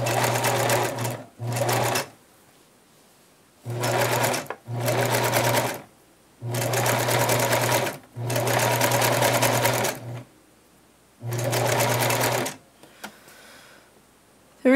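A sewing machine zigzag-stitches stretchy t-shirt material for a drawstring bag in repeated loud, whirring bursts of one to three seconds, with brief pauses between them.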